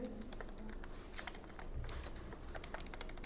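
Soft, steady typing on a computer keyboard, with quiet, irregular key clicks that continue throughout at low volume.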